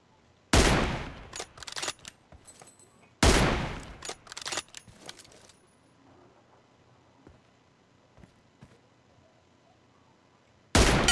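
Loud, close gunfire in PUBG Mobile, two sharp bursts of rapid shots followed by scattered fainter single cracks, ending with another burst after a quiet stretch.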